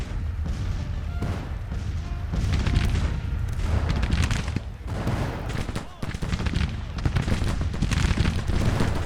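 Civil War battle in Grand Tactician: The Civil War, with dense continuous musket fusillades and booming artillery at close range, rumbling and crackling throughout, and someone talking over the din.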